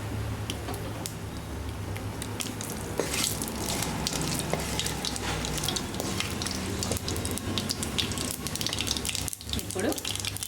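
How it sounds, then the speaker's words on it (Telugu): Mustard seeds, cumin and dried red chillies frying in hot oil for a brinjal and cucumber chutney tempering, giving a steady, dense crackle and sizzle that continues close up without a break. "ఆవాలు జీలకర్ర చిటపటలాడుతుండగా ఇప్పుడు ఇంగువ"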